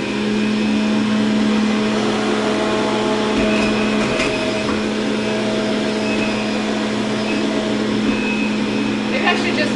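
A juicer runs on high, working through apples, ginger root and celery. Its motor gives a loud, steady whine with a constant hum that never lets up, and light clicks and rattles come through near the end.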